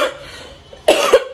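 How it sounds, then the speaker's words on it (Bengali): A person with a cold coughs twice, a short rasping cough near the start and a louder, harsher burst of coughing close to the end, indoors with no talking. "আমার এত ঠান্ডা লেগেছে, মানে কাশিটা কিছুতেই কমছে না"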